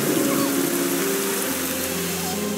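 Rain falls steadily in the video game Edge of Reality 5, a constant hiss of water under soft tonal game music, with no spoken voice.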